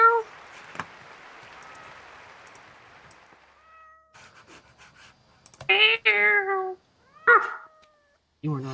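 A cat meows several times, with drawn-out, rising and falling cries that grow louder and closer toward the end. Faint scuffling noises come before the meows.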